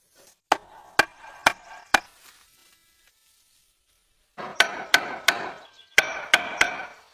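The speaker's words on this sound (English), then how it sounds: "He then reinforces them with iron nails." Iron nails hammered into wooden bench legs during log cabin restoration: sharp, evenly spaced knocks, four in a first run, then a pause and a second quicker series of about six blows, close and alone.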